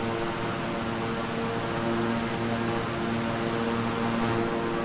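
Steady, loud drone of a King Air 350i twin-engine turboprop in Microsoft Flight Simulator, flying between Syracuse and Rochester, New York, with constant propeller hum and tonal engine whine holding evenly throughout.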